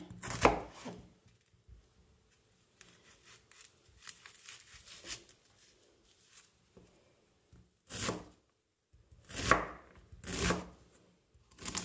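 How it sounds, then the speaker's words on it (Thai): A knife slices an onion into thin pieces on a cutting board in short bursts of rapid strokes separated by pauses, close and crisp, with no talking. "ส่วนหอมหัวใหญ่นะคะก็จะเอามาหั่นนะคะ เป็นชิ้นๆที่จางๆ"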